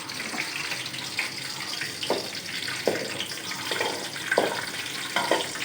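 Chana dal dropped into hot oil for a drumstick leaf poriyal, a soft continuous crackling sizzle with faint clicks and stirring taps, quiet and close.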